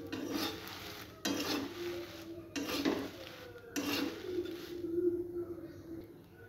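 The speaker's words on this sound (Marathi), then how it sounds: "अशा तऱ्हेने आपल्या मिरच्या भाजल्या." Dry red chillies are roasted in a pan, stirred with a rhythmic run of scraping strokes about every second, and each sweep rasps against the metal up close.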